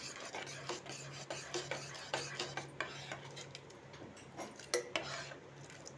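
A spoon stirs sambar powder into sundakkai sambar in a cooking pot, giving repeated scraping, rubbing strokes against the metal in an irregular rhythm, fairly faint, with no talk.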